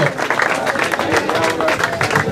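Applause and crowd noise greet two slalom drivers at a hill-climb slalom event in Gambarie, a dense steady patter of clapping under a loud announcer's voice over the public address.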